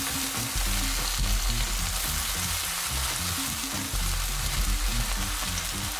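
Onions and tomatoes fry for a South Indian vegetable kurma, giving a dense, continuous crackling sizzle close up. A low stirring rumble sits underneath, steady throughout with no talking.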